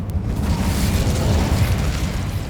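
A fire spell cast in a fantasy video game set at Hogwarts, heard as a sustained, loud roaring blast of flame with rumbling low end that holds steady for a couple of seconds.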